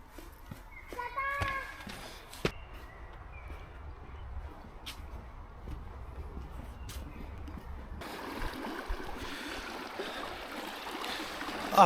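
River flowing close by in a park in Füssen, Bavaria, a soft continuous wash of water with a few faint knocks and footstep-like sounds; the rushing grows brighter and louder toward the end.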